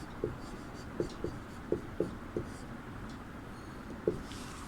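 Handwriting with a pen or chalk during a Hindi language class, faint scratchy strokes and several soft taps scattered irregularly over a quiet room background.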